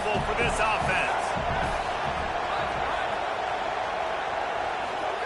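A stadium crowd roars throughout a college football video game against Nebraska, a loud, dense and unbroken wall of noise with a few low thumps early on.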